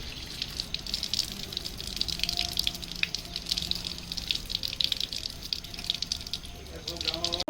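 Water runs from a household tap in a steady splashing hiss, with occasional drips and gushes, as someone talks over it nearby.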